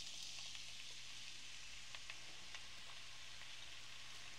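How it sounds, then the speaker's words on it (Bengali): Chopped onion fries in about a third of a cup of oil, giving a steady soft sizzle with faint scattered pops throughout, quiet and with no talk. "আমি 1/3 কাপ তেল দিয়ে দিচ্ছি। সাথে দিয়ে দিচ্ছি পেঁয়াজ কুচি।"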